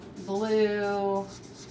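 Writing a list of colours on a board gives a single squeaky stroke lasting about a second, close and fairly clear, with a quiet pause before and after.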